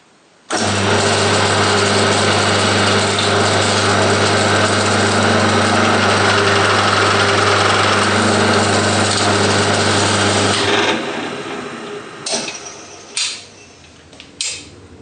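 A drill boring a hole through a model steam locomotive part runs as a loud, steady whine for about ten seconds, then stops, leaving a few short knocks and scrapes near the microphone.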